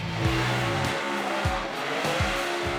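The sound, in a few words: burnout car engine revving high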